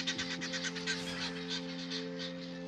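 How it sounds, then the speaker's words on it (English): Geese honking repeatedly in a rapid, overlapping series at moderate distance, with a steady mechanical hum running underneath throughout. "the geese."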